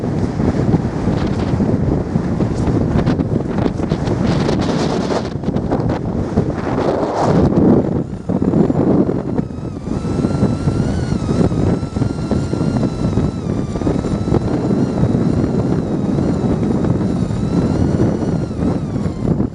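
Strong wind on the exposed hilltop of Dunkery Beacon buffets the microphone in loud, continuous roaring gusts, with a brief lull near the middle before the rush returns.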